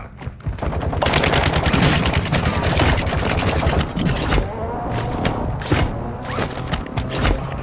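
Rapid automatic gunfire rattles in close bursts during a video game firefight, sustained volleys broken by brief pauses and mechanical clicks.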